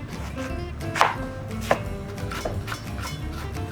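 A knife slices vegetables into thin julienne strips on a board for spring rolls, making close, rhythmic, evenly spaced knocks over a soft background hiss.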